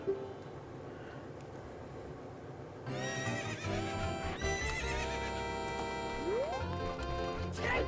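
Epona, the horse in the video game Zelda Ocarina of Time, gives a loud, drawn-out whinny over game music, with hoof clip-clops beneath. A quieter ambient passage comes first.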